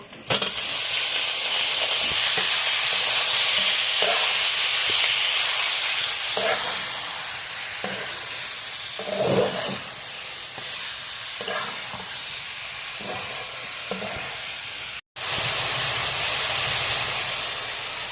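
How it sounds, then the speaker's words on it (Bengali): Beef frying in a pan with spice paste of onion, garlic and ginger for a chui jhal beef curry, a steady loud sizzle with scraping stirs throughout and a brief cutout near the end. "মশলাটা ভালোভাবে ভেজে নিয়েছি এখন আমি মাংসগুলো ঢেলে দেব"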